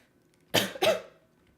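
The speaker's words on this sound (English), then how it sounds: "Sorry for the coughing." Two quick coughs close to the microphone, one right after the other, in an otherwise quiet room.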